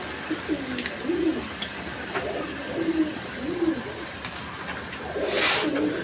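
Pigeons coo on a farm, repeated soft low throaty calls in a loose rhythm, close by over a quiet background with a brief noisy rustle near the end.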